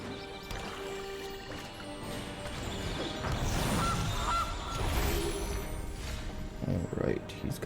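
A cartoonish goose honk plays as the Gilded Goose card sound effect in the digital card game MTG Arena, sounding over steady game background music and other interface effects.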